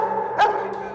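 A police dog on a tactical response job lets out a single sharp bark at close range, rising over a steady background hum.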